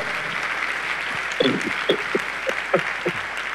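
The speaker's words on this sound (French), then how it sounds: "Alléluia, on l'acclame." An audience at a religious gathering claps in a short, loose burst of scattered hand claps, moderately close over faint background noise.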